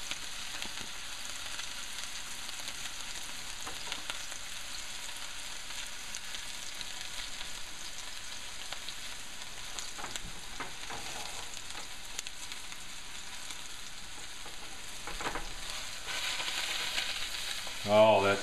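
Ono fish pan-searing, a soft, steady sizzle throughout, fairly quiet and even, with a brief louder clatter at the very end.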